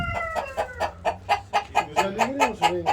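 An ornamental-breed rooster clucking close by in a quick, steady series of short, throaty bursts, about a dozen in a row.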